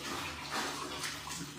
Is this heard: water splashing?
yes